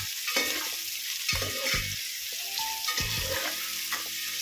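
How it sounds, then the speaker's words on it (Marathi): Paneer masala with garlic sizzles steadily in a hot pan, broken by several sharp stirring scrapes of a spoon against the pan, close and fairly loud with no voices. "याला पण छान असं परतून घेऊया."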